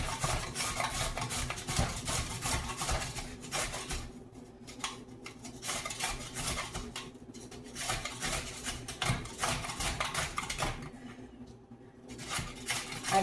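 Vegetables for a low-calorie dinner of Brussels sprouts and yellow squash sliced on the side of a grater, giving a busy run of close, rapid rasping and scraping strokes with brief pauses.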